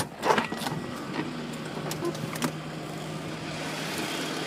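The turbocharged engine of a 1987 Chrysler Conquest TSI idles steadily with a broadband rumble and hiss, heard up close, with a few brief mechanical clicks near the start.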